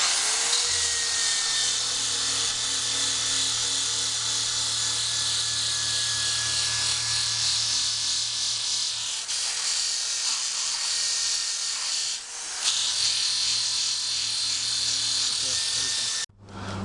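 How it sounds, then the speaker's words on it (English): A steady, loud grinding rasp of an 80-grit power sanding wheel working an old wooden barn beam, with a low motor hum underneath and brief pauses near the end. "this is 4 sides brushed and sanded with the 80 grit sanding wheel"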